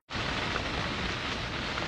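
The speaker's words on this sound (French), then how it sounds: "eh oui, il pleut" Heavy rain pouring onto a tent during a violent high-altitude mountain storm in Kyrgyzstan, a dense, steady hiss of drumming drops that starts abruptly and stays loud and close without a break.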